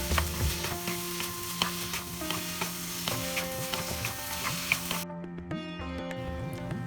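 Fried chicken pieces for Chicken 65 stirred in sauce in a pan, with soft scraping and a low sizzle running steadily throughout, fairly quiet and with no talking.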